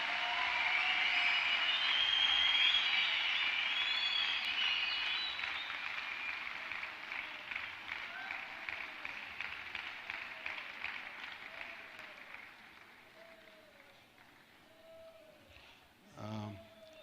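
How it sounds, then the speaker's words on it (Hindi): A youth festival audience gives loud sustained applause to welcome a guest speaker, the clapping fading gradually over many seconds under a faint voice, ending in a brief thump. "डॉक्टर गाली गंगाधर जी, हम जोरदार तालियों से उनका स्वागत करेंगे."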